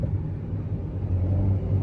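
Alpine A110 R engine pulling hard on a race circuit, a steady close low droning rumble that grows slightly louder toward the end, no voices.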